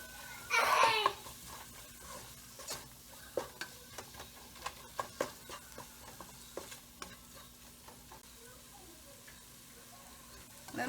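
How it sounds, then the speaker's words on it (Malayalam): Chili powder frying in a pan for rajma curry is stirred with a spoon, a soft low sizzle under a run of distinct taps and scrapes against the pan, preceded by a short loud burst near the start, close and fairly quiet. "നന്നായിട്ട് അതിൻ്റെ പച്ചമണം പോകുന്നതും വരെ ഒന്ന് ഇളക്കി കൊടുക്കാം"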